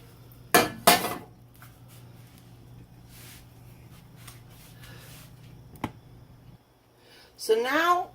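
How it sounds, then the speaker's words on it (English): A metal skillet knocks onto a stovetop with two sharp clanks, followed by a fainter clink and quiet kitchen hum, then a voice speaking. "I return the pan to the heat, add some more olive oil to the pan"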